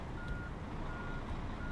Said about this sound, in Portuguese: Tá engatando aqui o caminhão